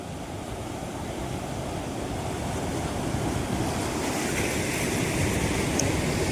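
Ocean waves wash onto the shore in a broad, steady roar that grows slightly louder, with wind buffeting the microphone and no talk.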